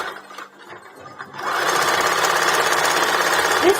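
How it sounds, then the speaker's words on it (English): A sewing machine runs a straight stitch along a fabric tube for a sports bra. Quiet handling comes first, then the machine starts and whirs in a loud, steady, rapid mechanical chatter that lasts until the end. "So let's go ahead and sew it inside out. We'll do a straight stitch on it."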